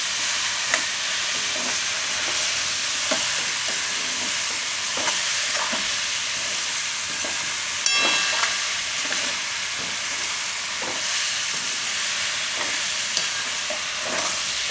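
Sweet potato and fenugreek leaves being stirred in a hot pan for a Gujarati shaak, a steady sizzle with repeated scraping strokes of a spoon against the pan, close and continuous with no talking.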